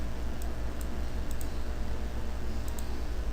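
A computer mouse double-clicks while colours are chosen in design software, producing faint, sharp paired clicks scattered over a steady low background hum.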